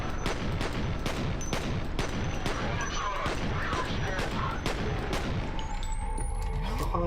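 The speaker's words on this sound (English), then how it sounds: "Let's see if I can snipe a lad with my pistols." Pistol fire in F.E.A.R., a steady run of sharp, evenly spaced shots at close range through several seconds, ending in a clattering tail and a rising whine.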